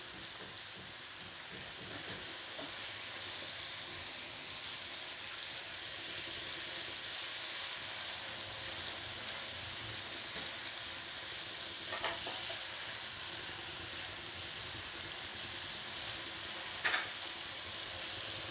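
Sambal cobek with pindang fish and petai fries in a pan, giving a steady hiss and sizzle that continues throughout, broken by a few faint clinks of stirring.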